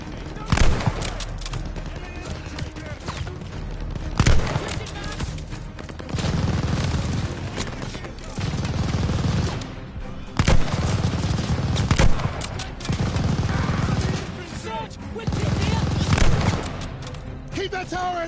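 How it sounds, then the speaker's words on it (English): Machine gun fire in Call of Duty Vanguard, with repeated loud bursts of automatic fire and scattered shots amid battle noise, mixed with shouting voices. "Keep that tower MG down!"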